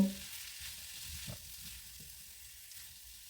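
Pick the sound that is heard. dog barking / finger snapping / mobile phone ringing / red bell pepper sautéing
red bell pepper sautéing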